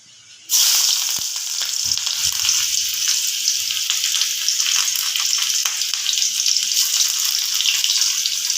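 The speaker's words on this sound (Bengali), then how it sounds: "তেলটা গরম হয়ে গেছে এবার আমি তেলটা কড়ার চারধারে লাগিয়ে নিলাম এবার এর মধ্যে আমি ছেড়ে দেবো পেঁয়াজ কুচি" Chopped onion drops into hot oil in a wok and breaks into a loud, steady sizzle that starts suddenly and holds at an even, bright hiss with no one talking.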